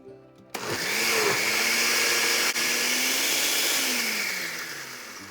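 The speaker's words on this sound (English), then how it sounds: "I am grinding half the ingredients first in a blender." A blender grinds mint chutney ingredients, starting abruptly with a loud, steady whir that holds level for several seconds and then slowly eases off toward the end.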